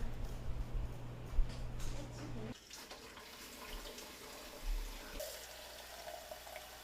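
Water running from a household tap in a home during a tap-water quality check, a steady splashing flow that stops partway, followed by quieter room sounds and faint handling noises.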